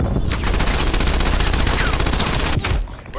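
A PPSh submachine gun fires a long, fast, continuous burst in Black Ops Cold War, loud and rapid rattling shots that cut off abruptly near the end.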